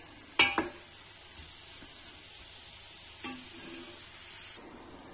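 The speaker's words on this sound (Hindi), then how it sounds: "प्याज को मैं गोल्डन ब्राउन होने तक पकाऊंगी।" Onions fry in a pan until golden brown, giving a soft, steady sizzle broken by a couple of brief clattering stirs of the spoon against the pan.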